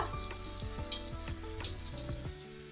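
Chicken soup ingredients are stirred in a hot pan, with a steady close sizzle and repeated scraping knocks of a spoon against the pan at a loose, regular rhythm.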